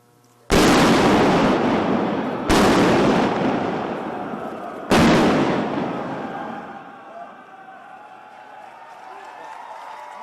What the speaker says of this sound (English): You will also witness the detonation of a few of these other expedient charges.